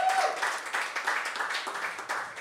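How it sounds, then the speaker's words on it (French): A small audience claps in a quiet room, a faint, uneven patter of hands with distinct individual claps, short and fairly soft. "oui, on peut applaudir."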